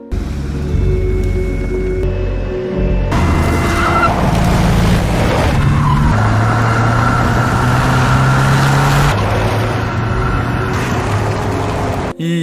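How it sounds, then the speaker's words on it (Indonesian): A car roars at high revs through a chase, engine loud and sustained with tire squeal and skidding mixed in, running nearly the whole time without any talk over it. "Pedro langsung tancap gas nggak pakai lama"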